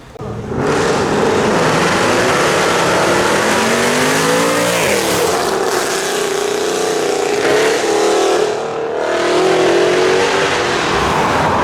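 A Ferrari supercar engine revs loudly and holds a roaring, shifting drone as it pulls away at a supercar show, pitch rising and falling, steady and close throughout.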